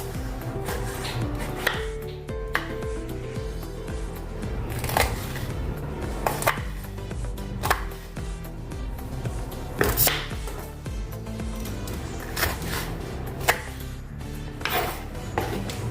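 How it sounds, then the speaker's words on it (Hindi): Capsicum is cut with a knife over a steady bed of kitchen noise, with irregular sharp blade knocks spaced every second or two against the board and occasional clinks of utensils. No voices are heard. "अभी हम शिमला मिर्च को काटेंगे।"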